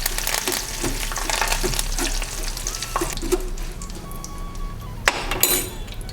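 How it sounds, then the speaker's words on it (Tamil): Curry leaves frying in hot oil in a kadai for an aval (beaten rice) mixture, a steady crackling sizzle throughout with a few sharper pops and a faint clink of metal near the end. "இப்போ அந்த கடாயிலே கருவேப்பிலையை போட்டு பொரித்து எடுத்துக்கலாங்க"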